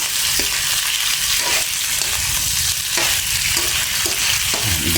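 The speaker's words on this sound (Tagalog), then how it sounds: "ibisa natin yan dyan sa ricado para manuot ang sarap" Eel sautés with aromatics in a pan for an adobo with coconut milk and string beans, a loud, continuous close sizzle with faint periodic stirring taps.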